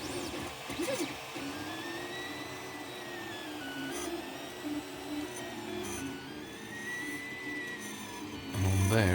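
A 3D printer runs test designs with the nozzle at 215 and the bed at 70, producing a steady whir with shifting, sweeping motor tones from the moving stepper motors, close and continuous throughout.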